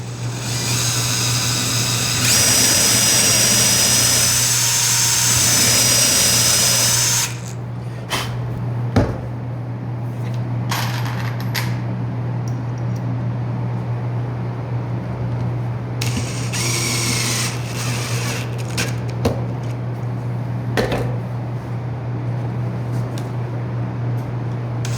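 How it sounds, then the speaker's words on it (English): A power drill whines loudly and steadily for several seconds while boring holes in a wooden bench hook, then stops, leaving a low constant hum with scattered clicks and knocks of handling in a workshop. "So now we're gonna drill our holes."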